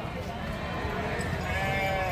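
Sheep bleating amid the bustle of the Gudur sheep market, calls blending into a constant crowd murmur with people talking nearby.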